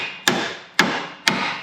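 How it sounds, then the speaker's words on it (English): A hammer strikes the top of a lower ball joint on a Chevy/GMC truck's suspension three times in a steady rhythm, each a sharp close metallic blow with a short ringing decay. "I'm gonna go ahead and hit the top of this"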